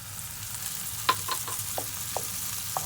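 Soy sauce hits garlic frying in a pan for pineapple fried rice, producing a steady sizzle punctuated by several sharp clinks and stirring scrapes.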